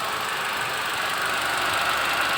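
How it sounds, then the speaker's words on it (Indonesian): A used car's engine idles steadily in a garage with its low-speed radiator cooling fan running, giving a close, even mechanical hum and whir with a faint knocking texture throughout. "Kalau kita on biasanya itu akan ada low speed cooling fan."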